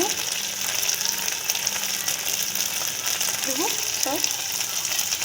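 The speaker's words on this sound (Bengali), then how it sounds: "ভাজা হয়েছে, মশলাটা ভাজা হয়ে গেছে।" Spices sizzling in a pan while cooking potol dorma, a Bengali stuffed pointed gourd dish, a soft, steady frying hiss close by with a couple of brief clinks near the end.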